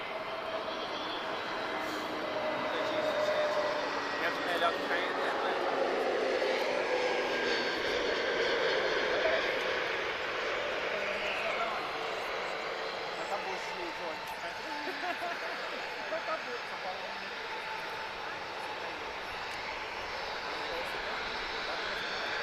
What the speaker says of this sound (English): we are looking at an EasyJet A321neo.